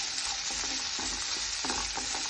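Thinly sliced onions and tomatoes frying for kadala curry, a steady close sizzle punctuated by rhythmic scraping strokes of a stirring spoon against the pan.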